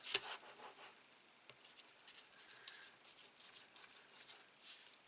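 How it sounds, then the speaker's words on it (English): Folded paper card for a pop-out panel being rubbed flat by hand, a soft steady scratchy friction that runs on and off throughout, faint and close, with a sharper brush at the start. "give that a rub."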